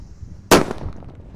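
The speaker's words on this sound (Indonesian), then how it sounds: "di sini ada mercon buntelan kertas yang kita tunggu-tunggu guys" A paper-wrapped firecracker bursts in one sharp, loud bang after a faint hiss, and a short, rumbling echo trails off behind it.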